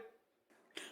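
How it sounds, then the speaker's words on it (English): A single throat-level cough bursts out near the end of a quiet second, preceded by faint room noise and a soft breathy sound. "I'm coughing, sorry, that's all."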